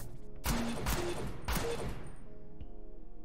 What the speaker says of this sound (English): Left shift, throw sphere. Shoot the sphere 3 times.